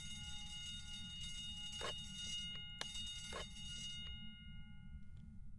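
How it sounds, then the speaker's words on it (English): A fire alarm pulled inside a diner in the ghost-hunting game Phasmophobia rings as a steady electronic tone with harmonic layers over a low rumble, joined by a few short sharp bursts and fading toward the end. "I can pull the fire alarm."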